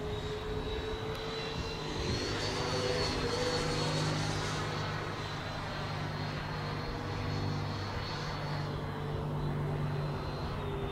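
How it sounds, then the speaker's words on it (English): A Freewing MiG-29 Fulcrum electric ducted-fan model jet flies at a high angle of attack and low speed, its fan whining as a steady, continuous whoosh with a thin high tone, moderately distant throughout. "Now, I'm testing the plane on high angles of attack, at low speed."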